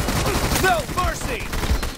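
Rapid bursts of video game gunfire crackle in a dense fusillade, with an excited announcer-style voice talking over the shots.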